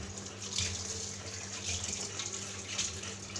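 Water runs steadily from a tap while dishes are washed in a kitchen sink, a continuous close hiss and splash with faint clinks of utensils.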